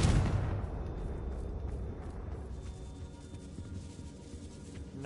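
A Confringo fire spell explodes in the Hogwarts Legacy video game, giving a loud boom at the start that decays into a rumbling, crackling tail over several seconds, with no voices.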